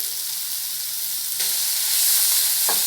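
Ridge gourd sizzling in a covered pan, a steady close frying hiss that grows slightly louder partway through, with a faint clink of the lid or spoon near the end.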